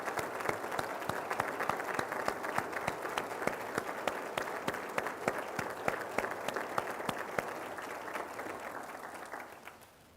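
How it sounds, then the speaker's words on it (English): Sustained audience applause for military veterans standing at a State of the County address: a long, even roll of many hands clapping that tapers off at the very end. "please stand so once again we can recognize you with applause"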